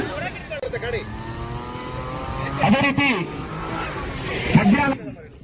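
At a public car, bike and auto rally at a fairground in Mudigere, a car engine revs and accelerates during a reverse race while an announcer talks over a loudspeaker and the crowd hums around it.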